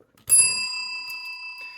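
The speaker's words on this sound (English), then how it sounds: "Yes, I'm using any excuse to use the bell." A single bicycle bell ding rings out clear and close, its bright metallic tone holding and slowly fading over a quiet background.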